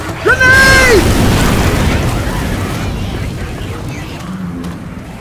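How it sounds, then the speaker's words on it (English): Grenade explosion in Left 4 Dead 2 goes off as a loud broadband boom right after a brief tonal whistle, then a long rumbling decay fading over several seconds. "Grenade!"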